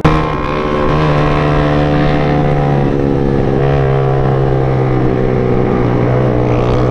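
A Yamaha Jupiter MX motorcycle on a touring ride in Garut runs at speed with a loud, steady engine drone and heavy wind rush, the pitch holding nearly constant throughout and no talking.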